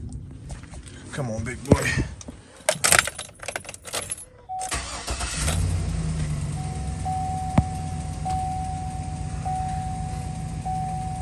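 A Chevy truck engine cranks after keys jingle, then starts and settles into a steady idle. A voice speaks briefly over the cranking, and a faint repeating electronic chime sounds over the running engine.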